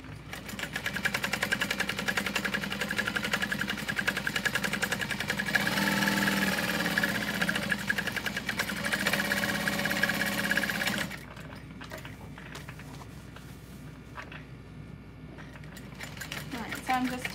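Sewing machine top stitching around a bag pocket runs in a steady, fast mechanical whir for about eleven seconds, then stops, leaving quieter handling noises; a voice talks over it.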